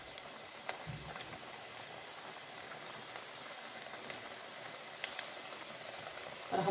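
Sesame pastries deep-frying submerged in oil give a soft, even bubbling crackle with scattered tiny pops, fairly faint and steady throughout, with no talking.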